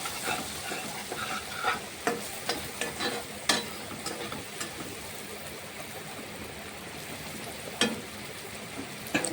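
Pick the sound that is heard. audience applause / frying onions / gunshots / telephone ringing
frying onions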